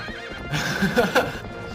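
Horse in Zelda: Twilight Princess, a short burst of clip-clopping hooves close by with a whinny-like cry over them, with no talk.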